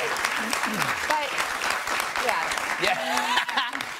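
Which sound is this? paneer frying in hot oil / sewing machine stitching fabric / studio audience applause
studio audience applause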